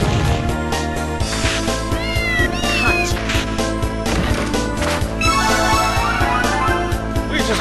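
A cat meows repeatedly in the video game Castlevania: Order of Ecclesia, several clear rising mews over loud, continuous game music and effects, with no talking.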